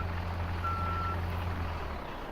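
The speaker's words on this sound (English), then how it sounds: "Normally when you're reversing Euro Truck Simulator" A truck in Farming Simulator 17 reverses with a steady low engine hum, and a single thin electronic beep tone sounds briefly over it.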